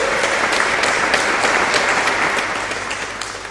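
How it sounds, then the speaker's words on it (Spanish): A church congregation applauding during a sermon, loud dense clapping from many hands that holds steady then begins to fade near the end. "Dar un aplauso a Cristo por eso."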